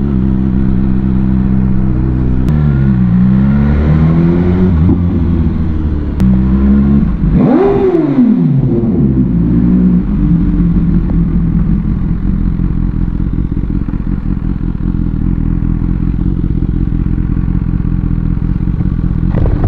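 A BMW S1000R hyper roadster's engine and exhaust roar loud and close, rising and falling through hard revs with a sharp surge midway, then holding a steady, powerful drone to the end.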